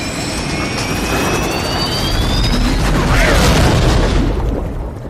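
Aircraft going down in a night-time plane crash in a film, a loud sustained jet-engine roar with deep rumbling booms and rushing noise swelling steadily throughout, with no speech.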